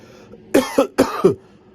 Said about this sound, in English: you got to get the cough out.